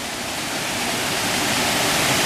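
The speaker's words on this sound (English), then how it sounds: "I can't be heard over the waterfall." A waterfall gives a loud, steady, broadband rush that fills the whole moment without pause and masks everything else.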